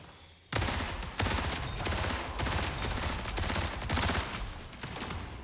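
Rapid sustained gunfire from a favorite weapon in the video game Marathon, a dense loud burst starting abruptly and continuing unbroken with periodic sharper reports, no talking over it.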